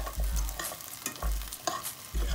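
Potatoes and ground beef cooking in a pan for picadillo, with soft sizzling under repeated rhythmic stirring scrapes and low thumps of a utensil against the pan, close up.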